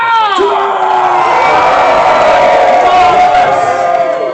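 A crowd of children and adults cheers loudly together, whooping and shouting in a sustained burst of rising and falling voices that fills the whole moment up close.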